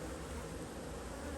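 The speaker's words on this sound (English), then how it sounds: "Bees are going at it here." Bees swarm over cut honeycomb in Ross Rounds frames, making a dense, steady buzzing hum that stays close and constant throughout the short moment, with no talking.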